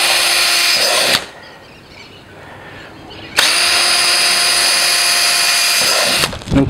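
A power drill bores holes in the four corners of a marked cutout on an oyster nursery silo, two loud sustained whining bursts separated by a quieter pause, with a third run starting at the end.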